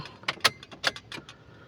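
Car keys jangle close up in a handful of sharp metallic clinks and rattles spread unevenly across a couple of seconds, with nobody speaking.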